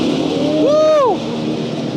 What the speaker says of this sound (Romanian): Ia uite o mașină de DTM.